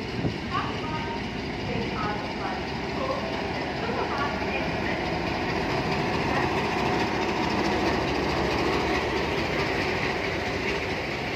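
A Yelagiri Express train, number 16089, rumbles steadily at a platform at Chennai Central, a continuous loud mechanical drone with faint clatter and murmuring voices throughout.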